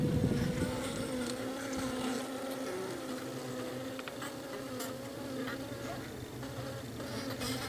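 A dense, continuous buzz of many honeybees in a hive after winter fills the clip, steady and close, with faint scattered clicks and rustles.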